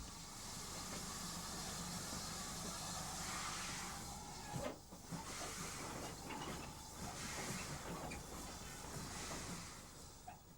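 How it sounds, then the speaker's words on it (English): A J-15 steam locomotive hauls a freight train bound for Temple Mills Yard on the Great Eastern line, heard as a faint, continuous rumbling roll of wagons with hiss and some brief knocks, no voices. "The J-15 returns, hauling a freight for Temple Mills Yard."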